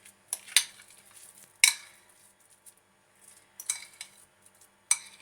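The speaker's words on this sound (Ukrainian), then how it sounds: "Беремо сир, ділимо його отак на дві частини." Cutlery clinks and scrapes against a bowl as cottage cheese is split into two portions, with a handful of sharp, separate taps and short scrapes against a quiet background.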